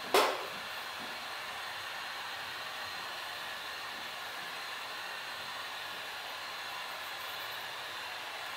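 Heat gun warming the glass screen of a Samsung Galaxy Note 2 during screen repair, a steady airy blowing hiss running throughout after a brief click at the start, with no speech.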